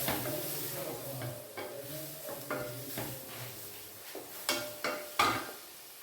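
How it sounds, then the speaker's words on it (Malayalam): Spice powders roast in hot oil in a pan while being cooked for ragi and rice puttu, with a soft steady sizzle under repeated scraping strokes of a spoon against the pan, growing sharper toward the end. "പൊടികൾ മൂത്തു ആ എണ്ണയ്ക്കകത്ത് കിടന്ന്."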